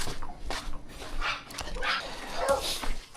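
A dog whimpering and yipping with a few short barks, close and fairly loud, with high whines rising and falling over about three seconds.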